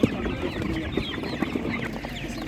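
Blue Favorite ducks and other fowl at an outdoor animal market give brisk, overlapping clucks and quacks in a busy, close-up jumble of short bursts.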